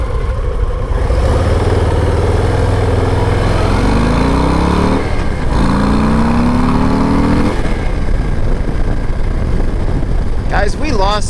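Harley-Davidson Low Rider ST motorcycle engine revving high on a road ride, a loud continuous roar rising in pitch through the gears with heavy wind noise.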